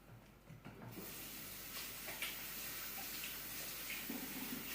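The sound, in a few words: washing hands under running tap water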